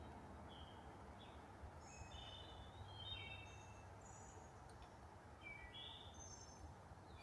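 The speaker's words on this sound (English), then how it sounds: "All I hear is birds and mosquitoes." Faint birds call and chirp in short, scattered bursts across a forest near Findlay Lake, New York, over a low steady background hum.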